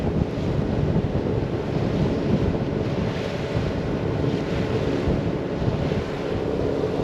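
Strong wind buffets a sailboat on the Intracoastal Waterway near Beaufort, North Carolina, a loud constant roar with chop against the hull, steady throughout and free of talk.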